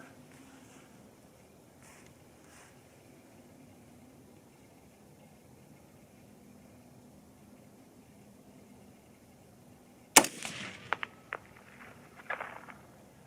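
A .243 Winchester rifle fires factory loads outdoors in light wind: a single sharp, loud shot breaks a long near-silence, followed by a few quieter clatters and knocks.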